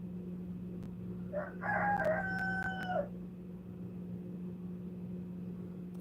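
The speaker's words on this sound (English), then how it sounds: "He's crowing." A rooster perched on a rail crows once outdoors, a clear mid-distance cock-a-doodle-doo lasting under two seconds over a steady low hum, with no talking.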